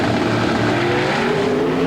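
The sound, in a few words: pro stock drag racing cars launching down the strip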